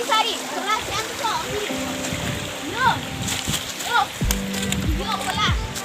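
People wade and splash through a small shallow stream near a waterfall, with repeated close splashes and sloshing water under frequent talking voices, including a child's.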